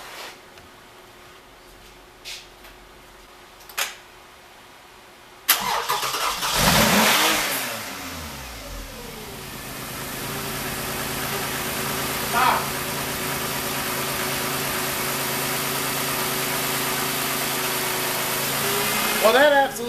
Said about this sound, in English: It just cranks and cranks and cranks and cranks.